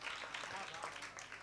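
A mushaira audience at Mumbai University gives a brief burst of dense, steady clapping to welcome a poet, moderately close and mixed with talk.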